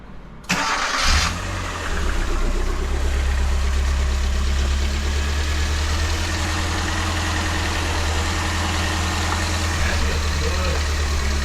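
A 1997 Ford Festiva with a newly replaced clutch cranks briefly and catches, then settles into a steady, continuous idle with a low hum. The engine sounds close and keeps running evenly, with no talking over it.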